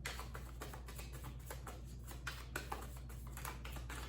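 Dry, papery riffling of cards being shuffled, a steady run of quick flutters and soft taps over a low background hum, with no voices.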